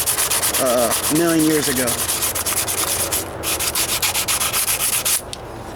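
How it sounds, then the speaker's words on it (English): Rattle-can paint on a 1998 Toyota Corolla hood being wet sanded with an old sanding sponge, rapid rhythmic back-and-forth scrubbing that continues steadily, with someone speaking briefly over the start. "I'm using an old sanding sponge as well."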